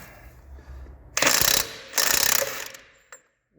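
A Parkside cordless impact wrench from Lidl loosens a nut on a reverse thread in two loud bursts of rapid hammering rattle, each lasting about half a second. A faint click follows, and quiet background noise sits between the bursts.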